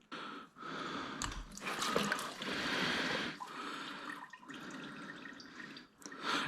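Coolant drains from an Aprilia SXV/RXV motorcycle engine, a steady splashing trickle of liquid that runs on with a few brief pauses, close and fairly quiet.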